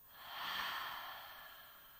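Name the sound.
person exhaling deeply during breathing exercise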